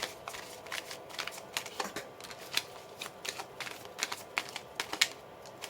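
Tarot cards being shuffled in a series of crisp, papery riffles and flicks, close and fairly quiet, with irregular bursts of card noise and no voices.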